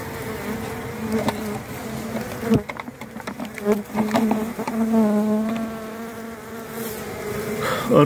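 Honeybees, including drones, buzz steadily and loudly at an open beehive, a dense close-up drone with shifting pitches and occasional knocks from handling the frames.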